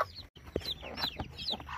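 A hen and her chicks, with soft clucks and thin high peeps close by in short, irregular calls; faint overall.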